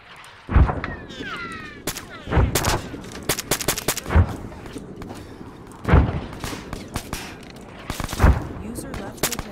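Gunfire on a hill in Arma 3, several loud sharp reports and bursts spaced a second or two apart, some echoing, with distant crackling shots between them.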